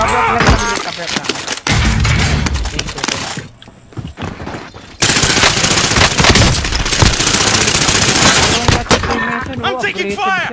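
Dense machine-gun fire and bursts of gunshots in a Call of Duty match, loud and close, with a brief lull and then renewed heavy firing while voices shout over the noise.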